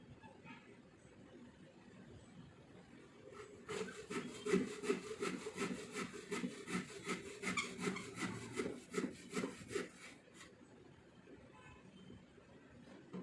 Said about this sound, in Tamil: இன்னும் கொஞ்சம் நான் கட் பண்ணேன்னா பழைய ஹேண்டில்